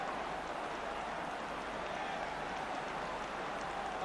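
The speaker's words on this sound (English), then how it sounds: "Applauding the pass which set him free." A football stadium crowd at an FA Cup third-round tie applauds in a steady, distant wash of clapping that fills the whole stretch without a break.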